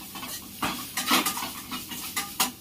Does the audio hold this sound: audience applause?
no